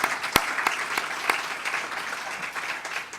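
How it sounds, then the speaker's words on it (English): A crowd claps steadily for a few seconds, dense and even with a few sharper individual claps standing out. "Let's give these guys a round of applause for pulling this off."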